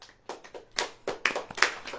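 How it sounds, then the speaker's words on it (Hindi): Members of a church congregation clap their hands, several sharp separate claps in an uneven rhythm heard close in a quiet room. "ताली बजाइए आप"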